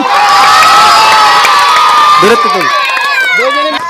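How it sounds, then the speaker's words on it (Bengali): A large crowd at a village game prize-giving cheers and shouts loudly and continuously, with excited children's voices rising above the din. "সবাই হাততালি দেন।"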